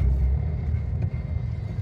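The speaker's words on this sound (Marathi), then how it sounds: "ट्रॅफिक आहे भरपूर." Heavy road traffic rumbles along a ghat highway, where large vehicles climb through the hills, producing a dense, continuous low roar of engines and tyres close by with no speech.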